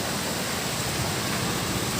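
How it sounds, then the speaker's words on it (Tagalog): Heavy rain pours down in stormy, windy weather, a dense steady hiss without a break and no voices. "Maulan na"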